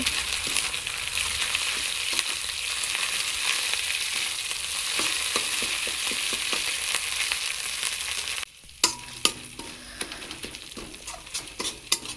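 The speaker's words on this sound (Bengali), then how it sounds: "রসুনটা ভেজে নিয়ে তারপরে দিয়ে দেবো আদা আদা বাটা তারপরে জিরে বাটা দিয়ে ভালো করে আবার একটুখানি কষিয়ে ভেজে নেব" Garlic frying in a pan, then ginger paste and cumin paste being fried for chicken kosha. A steady, close sizzle runs throughout, and after a short break the spatula scrapes and clinks as the paste is stirred.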